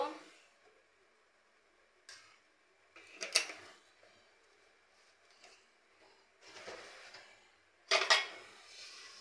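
A metal frying pan clanks and scrapes in a few sharp bursts separated by quiet pauses, like a pan being set down and moved about before oil is added.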